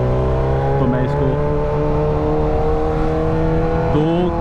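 A 2019 Kawasaki Ninja H2 motorcycle engine, tuned with corrected fuel maps, idles close by with a steady, loud hum and brief throttle blips twice.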